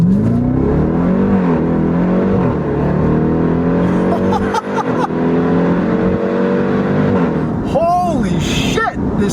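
A 2018 Jeep Grand Cherokee Trackhawk accelerates hard on the road, its engine note climbing loud and close through rising revs with a brief dip near the middle, while a voice speaks over it.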